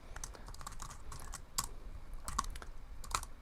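Keys clack on a computer keyboard during coding, a quick, irregular run of close taps with a few sharper, heavier strikes and no talk.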